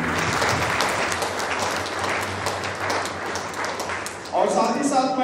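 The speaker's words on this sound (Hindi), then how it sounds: "हम लोग जोरदार तालियों के द्वारा उन्हें आज के प्रोग्राम के लिए धन्यवाद देंगे" Loud, sustained applause from an audience of sisters and guests at a Holy Mass and inauguration of a catechetical pastoral centre, a steady wash of many hands clapping that swells near the end.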